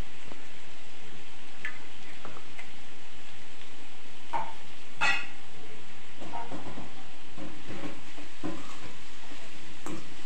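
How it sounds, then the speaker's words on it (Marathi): Fenugreek leaves stir-frying in a hot tempering on high flame, giving a steady soft sizzling hiss with scattered scraping and stirring clicks throughout. "अशा प्रकारे आपण फोडणीमध्ये मेथीची भाजी घालायची आहे व भाजी हाय फ्लेमवरती छान चरचरीत भाजून घ्यायची आहे"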